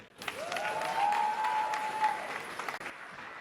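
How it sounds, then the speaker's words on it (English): A gathered audience at a celebration gives a sustained round of applause for performers, a dense, steady wash of clapping with a few faint cheers, no speech over it. "So can we give all the guys performing a round of applause?"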